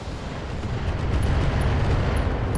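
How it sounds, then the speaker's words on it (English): An ammo explosion in the BattleTech video game, a loud, dense rumbling blast that rolls on steadily for a few seconds with scattered crackling bursts. "in spite of an ammo explosion"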